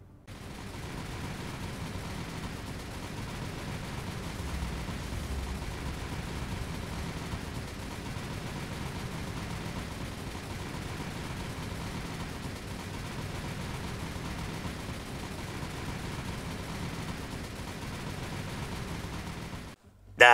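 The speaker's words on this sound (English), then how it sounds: "let's go straight back in and see if we get a nice strafing run off of there" A P-38 Lightning makes a strafing run in the War on the Sea naval combat game, with a continuous dense rattle of gunfire over a steady roar for about twenty seconds before it cuts off abruptly.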